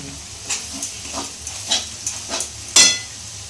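Potato masala with chopped green chillies being sautéed in a pan: a soft steady sizzle under a series of scraping spatula strokes, roughly seven, the final one sharper and louder.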